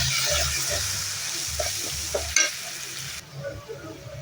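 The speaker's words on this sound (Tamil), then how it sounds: "ஆட் பண்ணிவிட்டு பச்சை வாசம் போகிற அளவு நல்லா வதக்கி விட்டுலாம்" Ginger garlic paste sautéing in hot oil for a Tamil-style intestine (kudal) gravy, a steady close sizzle and fry with spatula stirring scrapes throughout, no talking.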